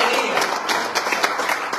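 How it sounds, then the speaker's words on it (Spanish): A church congregation claps in dense, continuous applause, with voices mixed in throughout. "demos palmas al Señor con gozo y alegría"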